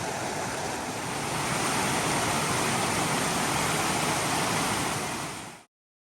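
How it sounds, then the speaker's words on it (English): A creek at a Sedona creekfront property gives a loud, dense, steady rushing wash that holds unchanged for over five seconds, then cuts off abruptly to silence. "in Junipine, you can hear the creek from many locations within the property."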